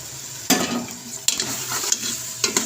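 Chickpeas fry with ginger-tomato paste in a pan for a restaurant-style chana, a loud sizzle broken by three or four sharp stirring scrapes and clatters of a spoon against the pan.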